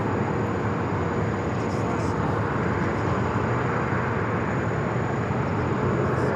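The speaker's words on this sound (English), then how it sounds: "United 757-200 heading to the north side gates of Terminal 3." A United Boeing 757-200 taxis toward the Terminal 3 gates at Phoenix Sky Harbor, its engines a loud steady broadband roar that holds without a break.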